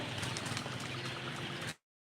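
Pigeons or doves at a bird seller's, a dense, busy wash of cooing and wing flapping at moderate distance that stops abruptly.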